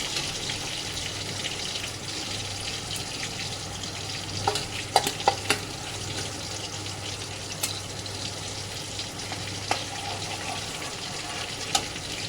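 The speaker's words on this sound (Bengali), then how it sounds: "জাস্ট শ্যালো ফ্রাই হবে, মাছটাকে তুলে দেবো।" Katla fish shallow frying in a pan, a steady soft sizzle running throughout with a few sharp crackles and pops scattered over it, moderately close and fairly quiet, with no talking.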